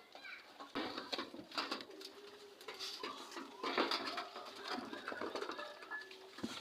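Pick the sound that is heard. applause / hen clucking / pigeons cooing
pigeons cooing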